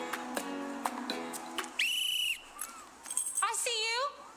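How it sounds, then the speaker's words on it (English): Whistle blown by a masked speaker indoors at a press briefing, heard as a few sharp, loud trilling blasts with wavering pitch, fairly close and standing alone. "My whistle is just as loud with my mask on."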